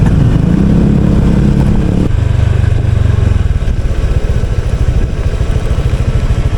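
Many motorcycles and scooters running close by, a loud continuous engine drone with a throbbing, pulsing idle that shifts pitch partway through.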